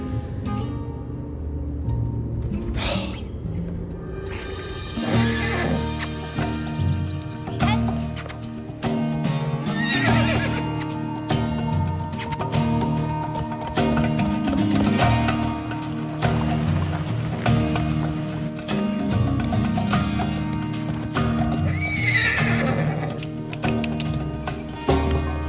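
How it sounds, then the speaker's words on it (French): A stubborn horse being run on a ranch neighs and whinnies while its hooves clip-clop underneath, set against steady background music. "J'ai jamais vu un cheval aussi têtu."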